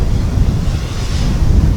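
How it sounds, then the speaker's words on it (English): Strong wind roars and buffets against the microphone at a model airplane flying field, producing a continuous loud low rumble with no voices. "Man, is it windy."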